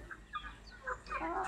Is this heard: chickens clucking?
yes